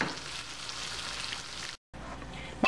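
Peanuts fry in a pan for a peanut salsa, giving a steady, dense sizzle and crackle that runs throughout, breaks off in a brief silence, then resumes just as loud.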